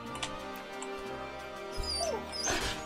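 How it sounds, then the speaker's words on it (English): Dogs or wolves in the video game Regions of Ruin give short whimpering, snarling cries amid dense game music and effects. "Oh god, dogs!"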